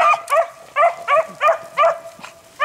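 Hunting dogs on a rabbit trail bay in a series of about eight sharp, rhythmic barks and yips, moderately close in quiet woods.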